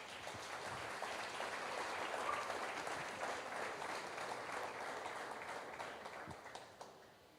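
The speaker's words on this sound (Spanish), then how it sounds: "démosle un aplauso a Dios por la vida de Javi." Church congregation giving a round of applause, dense continuous clapping from many hands that holds steady, then thins and tapers off toward the end.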